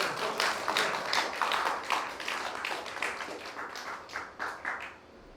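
Audience applause at a live magic show, a dense steady patter of many hands clapping fairly close, thinning and fading toward the end.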